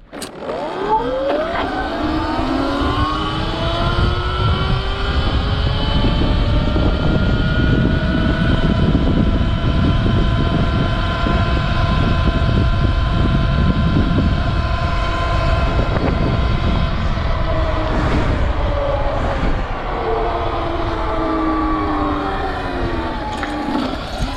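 An electric motocross bike running on a nearly empty battery accelerates to top speed, its motor whine rising steadily in pitch and then holding a loud, sustained high tone over heavy wind and road rush, with no talking.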